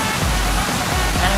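The waterfall at Ban Chia in Pang Sida Park roars as a loud, constant broadband rush of falling water, dense and unbroken, with no voices over it.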